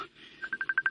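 Cellphone keypad tones are dialed in a radio drama: a rapid run of about seven short, evenly spaced beeps after a brief opening tone, crisp and close.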